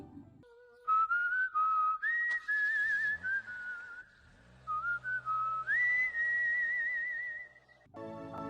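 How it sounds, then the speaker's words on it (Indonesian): Melodic whistling, a clear tune of sustained and sliding notes, close and fairly loud over faint low background noise. "Setelah itu dia bersiul lalu pergi."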